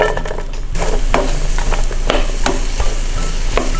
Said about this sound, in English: let's go ahead and add our onion here